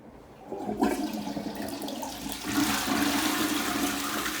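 A toilet flushes nearby, a sudden rush of water building into a steady, loud gurgling swirl that continues to the end.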